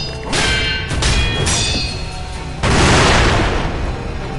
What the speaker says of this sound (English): those fireworks hurt like hell